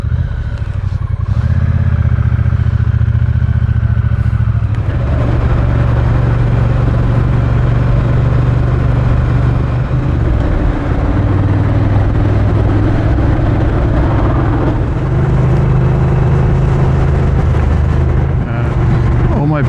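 A Triumph Bonneville T120 motorcycle on a test ride through Malibu, its engine droning loud and continuous with wind rush, the pitch shifting through gear changes and throttle as it cruises along.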